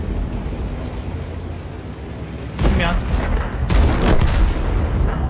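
Tank cannon shots in World of Tanks during a T-44 match, with heavy booming blasts over a constant low engine rumble and people talking over the gameplay.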